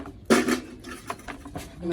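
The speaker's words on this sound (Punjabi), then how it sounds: "ਬਾਲਟੀ ਚ ਟੁੱਟੀ ਤੇ ਭਾਂਡੇ ਧੋਣੇ ਪੈਂਦੇ" Dishes being washed in a bucket by hand, with a loud clatter of utensils and pots knocking together, then scattered lighter clinks and splashes.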